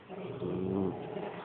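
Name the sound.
dog growling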